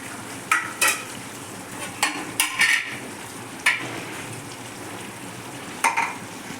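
Ground masala paste frying with chicken in a pan for chicken kootu, a soft sizzle under repeated scrapes and knocks of a spoon against metal, close and irregular.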